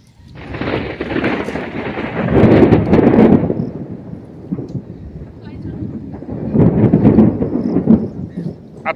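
Heavy rain with thunder pours down by a canal in the Sundarbans: a loud, close, broadband roar with rolling low rumbles and gusty wind buffeting, rising and falling in two strong swells.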